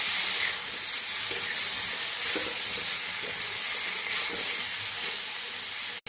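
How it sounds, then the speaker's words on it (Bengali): Spice paste of ginger, cumin and chili with salt and turmeric sizzles and hisses steadily in a pan with rohu fish, a loud close frying noise with faint stirring scrapes and no talk. "মশলা দিয়ে ভালো মতো কষিয়ে নেওয়া হয়ে গেছে।"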